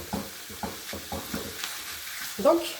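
Minced meat sizzling in a pan as it is stirred and broken apart, with rhythmic scraping strokes about every half second over a steady frying hiss, close and alone, ending in a louder clatter.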